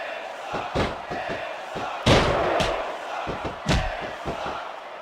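A capacity crowd at a WWE wrestling match roars and shouts, with loud slams and thuds from the ring breaking through the crowd noise several times.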